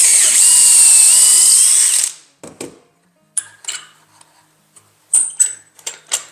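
A power drill bores a dowel hole through a Dowelmax jig, a loud, high whine for about two seconds that stops abruptly, followed by scattered clicks and clatter of the jig and pins.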